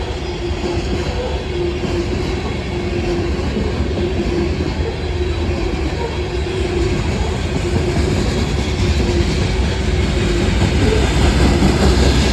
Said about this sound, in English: Got another westbound coal train, this time's loaded.